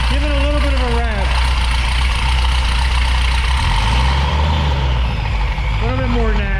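A loud, deep idle from a C7 Corvette running cheap aftermarket headers rises into a short rev and settles back, with speech heard over the exhaust rumble at the start and end.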